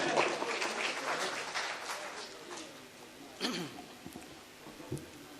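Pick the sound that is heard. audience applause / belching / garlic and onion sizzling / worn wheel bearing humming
audience applause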